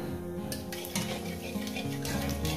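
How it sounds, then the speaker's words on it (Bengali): Cumin seeds temper in hot oil with a steady sizzle under a low hum, broken by a few clinks and scrapes of a utensil against the pan. "সামান্য একটু জিরে ফোড়ন দিলাম, একটু ফ্লেভারের জন্য দিলাম।"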